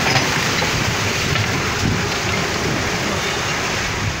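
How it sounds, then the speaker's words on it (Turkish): Steady, dense roar of 25-28 knot wind and driving rain in a squall at sea on a sailboat, a constant broadband wash with no pauses, loud and close throughout. "sağanaklar rezalet, birden bindiriyor."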